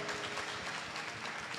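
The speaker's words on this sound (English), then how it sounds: "let's give them a hand clap" A church congregation at a Sunday Mother's Day service claps for a couple's 34th wedding anniversary, faint, distant applause spread evenly across a short stretch.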